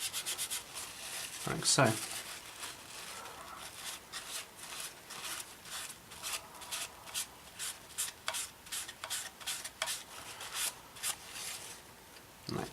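Sandpaper folded in half being rubbed along the sides of a small 1/48 scale P-36 plastic model aircraft part, a series of soft, rapid scratchy strokes, close and quiet, with a brief spoken comment.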